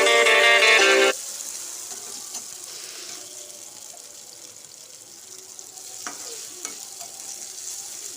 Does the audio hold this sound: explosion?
no